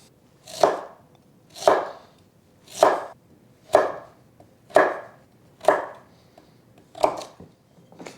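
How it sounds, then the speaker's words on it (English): Knife chopping sweet potato into small cubes on a cutting board, eight crisp evenly spaced chops about a second apart, each a sharp close thud, with no talking. "Then I need to cut this sweet potato into small cubes."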